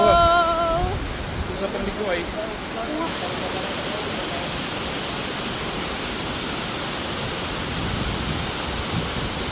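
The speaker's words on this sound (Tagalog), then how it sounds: "Andito na tayo sa taas ng malaking waterfall." Large Tinuy-an Falls in Bislig, Surigao del Sur, heard from the top as a steady, even rushing roar; a brief voice and tonal sounds cut through at the very start.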